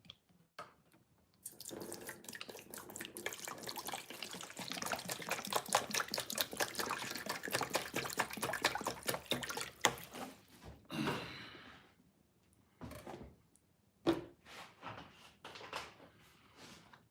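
Half a gallon of water pours steadily from a jug during a storm power outage, a continuous splashing gush lasting several seconds before breaking into a few separate splashes and trickles, fairly quiet and close.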